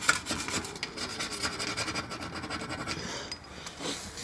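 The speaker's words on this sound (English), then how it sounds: "I'll sit here and scrub this until it's all off" Stubborn specks being scrubbed off a stove top, a close, steady rasping rub in quick back-and-forth strokes that continues without pause, at moderate loudness and with no speech.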